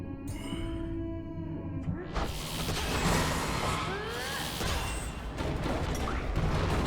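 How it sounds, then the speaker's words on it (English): Loud, continuous explosions and crashing debris in the video game Transistor fill the scene after a brief mechanical hum, with rumbling bursts layered densely throughout. "Lots of explosions there."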